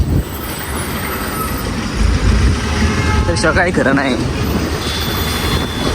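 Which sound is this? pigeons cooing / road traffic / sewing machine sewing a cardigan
road traffic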